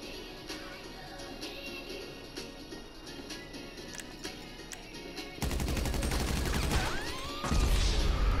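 Gunfire in the Grand Theft Auto V video game: light scattered shots at first, then dense loud bursts of rapid automatic fire in the second half, with no voices.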